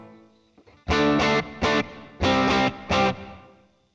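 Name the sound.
guitar through tc electronic Ampworx DC30 preamp with room reverb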